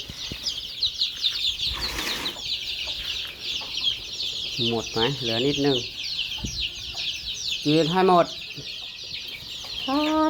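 Chickens, including small ones, cluck and squawk close by with wings flapping, over a constant high chorus of chirping; a few people speak briefly in between.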